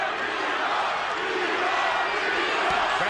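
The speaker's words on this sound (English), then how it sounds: "Crowd chanting, "Be Hop."" A dense boxing-arena crowd at the 2014 Hopkins vs Kovalev fight roars in a sustained chant for Bernard Hopkins, loud and continuous, with a commentator's voice faintly underneath.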